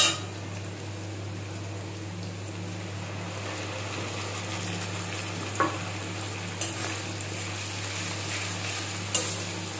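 Low, steady frying hiss from a pan with a constant hum underneath and a few sharp clinks of a utensil against metal; nobody speaks.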